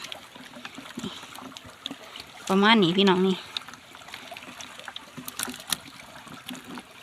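A steady trickle of flowing water runs beneath someone talking while checking fish traps, with a brief tonal hum partway through.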